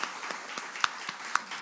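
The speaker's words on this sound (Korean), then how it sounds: "우리 하나님께 영광의 박수를 드립니다." Church congregation clapping together in praise during a Korean Sunday worship service, a steady, fairly close run of handclaps with a few sharper accents over a short stretch.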